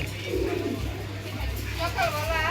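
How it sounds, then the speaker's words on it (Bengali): Shorting pigeons coo softly nearby in low, throaty calls, mixed with a faint voice talking and some background noise. "খুব সুন্দর কালারের ভিতরে একজোড়া শার্টিং কবুতর"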